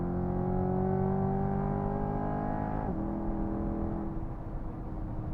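A 6.2-liter V8 supercar engine drones loudly from inside the car, rising steadily in pitch as it accelerates, then shifting gears near the middle before building again, with no talking over it.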